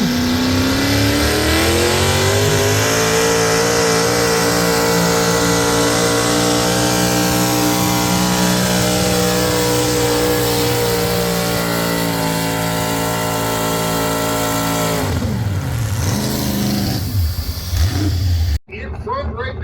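A modified single-engine pulling tractor with a 466-cubic-inch engine at a fair's tractor pull test-and-tune session roars loudly and continuously, its revs climbing steadily before dropping off sharply near the end.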